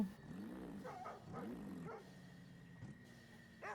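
A dog-like animal in a racing video game gives repeated whimpering yelps and soft bow-wow barks, faint under a steady engine hum in the game audio.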